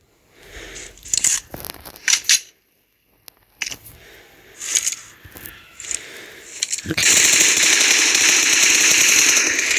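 Gunfire from the mobile battle royale game PUBG Mobile rings out in sharp close shots and rapid bursts, giving way to a loud sustained roar near the end, with someone talking excitedly over it.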